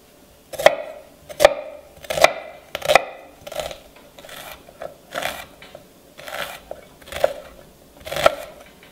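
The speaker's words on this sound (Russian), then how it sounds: "Лук нарезаю очень и очень мелко." A knife finely chopping onion on a board for a soup, about a dozen crisp, close chops spaced in a loose, steady rhythm with short pauses between them and no voices.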